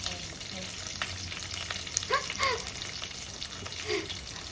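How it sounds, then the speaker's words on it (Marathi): Curry leaves sputter and crackle in hot oil for a spicy chilli snack, a steady frying hiss broken by a few sharp pops, close and moderately loud. "कढीपत्ता ठण ठण ठण ठण आवाज येणारा"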